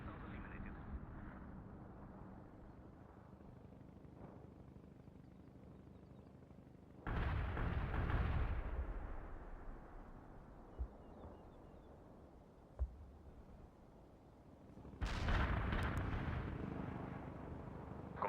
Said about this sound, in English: Commencing the barrage. More incoming shells!